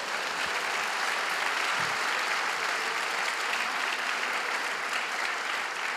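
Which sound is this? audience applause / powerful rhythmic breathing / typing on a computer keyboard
audience applause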